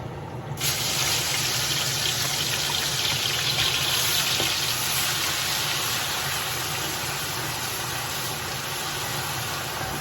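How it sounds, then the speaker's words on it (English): Garlic and ginger frying in hot oil for a beef nihari, a steady broadband sizzle with a constant hiss that holds at even loudness for the whole stretch, no talk over it. "garlic and ginger are nicely frying in the oil"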